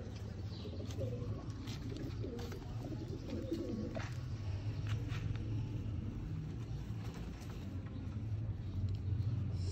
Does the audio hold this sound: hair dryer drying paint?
no